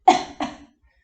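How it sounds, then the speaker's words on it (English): A patient coughs during a respiratory examination: two quick, close coughs in a row, the first sharper, then silence. "Go ahead and take a cough."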